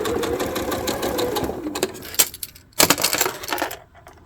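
A sewing machine stitches half square triangle quilt pieces, running in a fast even chatter for a couple of seconds before slowing to a few short bursts and stopping. Loud and close, with no talk.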